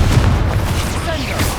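Confringo fire spell in the Hogwarts Legacy video game: a short, loud, rumbling explosive burst with crackling and swishing tones, heavy and close, sustained for the full moment amid other combat sounds.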